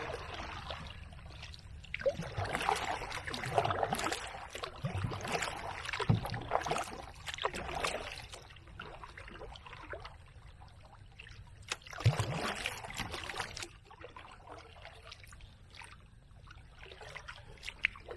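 Paddle strokes from an Old Town Next canoe, a small boat paddled like a kayak, slosh and drip through the water in irregular bursts, loudest near the start and again midway, with quieter trickling between strokes.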